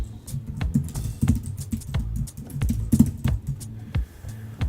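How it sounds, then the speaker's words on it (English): Keys clatter in a steady, uneven burst as credentials are typed on a computer keyboard to log into a VPN, close and clear with no voices. "we'll type in our credentials"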